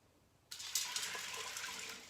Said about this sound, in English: I've added my 6 cups of water.